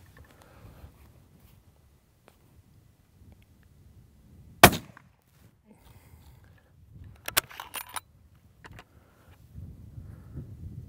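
A rifle shot is fired at a range to measure muzzle velocity, one loud sharp crack standing alone near the middle, followed later by fainter clanks and handling noises.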